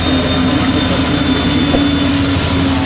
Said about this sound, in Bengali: দেখুন ট্রেন চলতেছে আর ট্রেন চলে যাচ্ছে মৈশাসন রেলওয়ে স্টেশনে